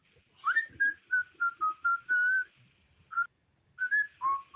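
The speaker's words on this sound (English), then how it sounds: "that's really loud whistle." A series of sharp, high whistled notes in a halting rhythm, mostly short bursts with a few held tones and a brief pause midway.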